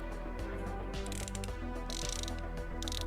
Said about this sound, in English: torque wrench is set to 30 on the dot